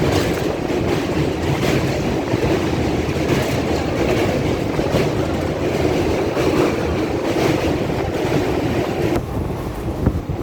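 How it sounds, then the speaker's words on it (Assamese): Steady rumbling of a moving train with a rhythmic clickety-clack of wheels on track and wind buffeting, loud and continuous throughout. "ট্ৰেইনখনৰ স্পীড আছে"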